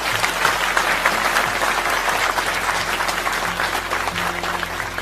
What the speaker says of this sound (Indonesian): saya minta teman-teman tepuk tangan untuk dia.